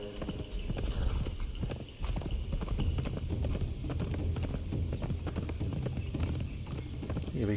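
Horse hooves clip-clop at a steady running rhythm in the Conan Exiles video game, loud and continuous, with a voice talking briefly over them.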